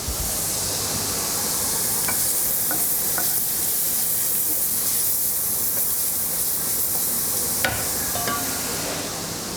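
Pieces of steak fry and sizzle in a pan with a steady hiss, while occasional light scrapes and taps mark them being stirred and spread around.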